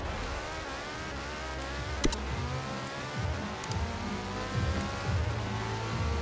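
A 2014 Porsche 918 Spyder in Forza Horizon accelerates hard in a drag race, its engine roaring loud and continuous with rising pitch sweeps as it climbs through gears, punctuated by a couple of sharp clicks.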